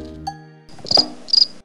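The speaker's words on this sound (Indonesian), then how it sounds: "Krik, krik, krik, suara jangkrik" Two sharp, high cricket chirps from a children's animal-learning cartoon ring out clearly, following a short musical tone.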